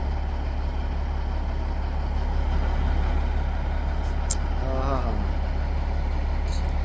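A Peterbilt truck engine idles with a loud, steady low rumble throughout, joined by a brief hiss and a whine near the end, with no speech over it.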